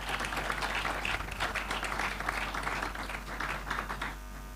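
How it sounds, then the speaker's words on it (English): Steady audience applause at a live celebration event, a dense wash of many hands clapping at moderate distance for several seconds, easing off slightly at the end. "A big clap for them, please."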